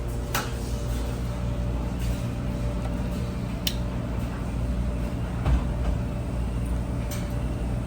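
A coin-operated washing machine starts its 30-minute wash cycle, giving a steady low rumble and hum with a few faint clicks and knocks throughout.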